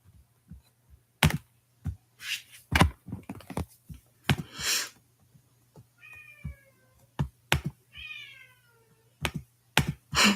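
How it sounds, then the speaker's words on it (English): A house cat meows in a run of short, rising-then-falling calls around the middle, set against scattered clicks and knocks like keyboard typing and a low steady hum, fairly close indoors. "My cat's meowing in the background."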